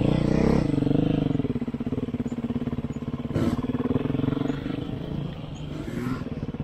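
A dirt bike engine drones loudly and steadily throughout, its pitch shifting slightly as the bike rides past nearby.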